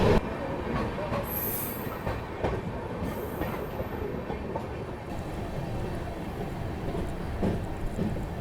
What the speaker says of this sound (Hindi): निर्धारित समय से जो है 5 घंटे और 10 मिनट की देरी के साथ अपनी ऊंचाहार एक्सप्रेस पहुंच चुकी है डलमऊ जंक्शन पे